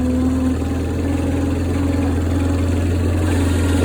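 An International Harvester 154 Cub Lo Boy tractor engine runs steadily while plowing snow, a close, constant mid-to-low drone with a fixed hum and no speech.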